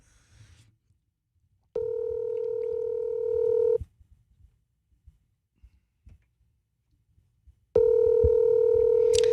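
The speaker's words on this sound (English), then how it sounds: "I'm calling him on the cell phone. I put it on speaker." Ring-back tone of a cell phone call played over speakerphone, with two long, loud, even tones separated by a silent gap of a few seconds and some faint clicks between them.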